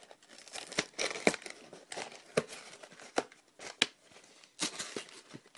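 Plastic parts bags from LEGO Legends of Chima sets are torn open and crinkled by hand, giving close, uneven rustling, sharp crackles and short tearing bursts with no voices.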